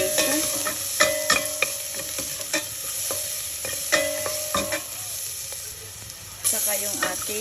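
Ginger, garlic and chili frying in a couple of tablespoons of oil for a spicy sour fish soup, a steady sizzle with repeated scraping stirs and clinks of a utensil against the pan, close and fairly loud.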